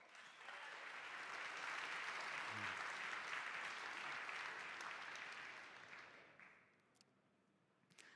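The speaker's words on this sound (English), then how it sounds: "please welcome him with a big applause" Applause from a conference audience fills the room as a steady wash of clapping for about six seconds, then fades away, with a few scattered claps at the end.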